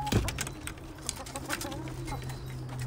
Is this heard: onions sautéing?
no